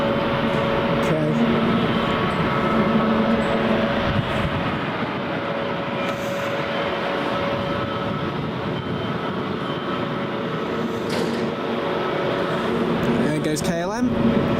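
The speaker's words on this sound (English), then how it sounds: "There goes KLM." A KLM airliner passes at Manchester Airport, making a steady, loud broadband jet roar that holds throughout, with a voice talking over it.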